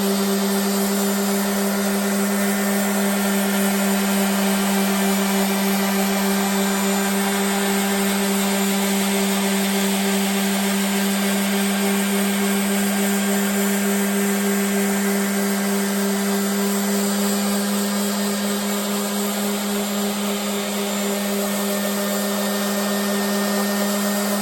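A power sander works across a surface at an even pace, giving off a steady, loud whining drone with constant pitch from start to finish.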